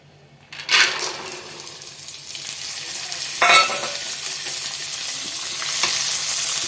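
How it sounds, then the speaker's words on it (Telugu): Corn kernels frying in hot oil in a pan, a loud close sizzle that flares up as they go in, then a steady crackling hiss with a second surge midway and occasional light scrapes of stirring, no voices. "వేసుకున్నాం కదా, ఇప్పుడైతే ఇవి బాగా వేపుకోవాలి."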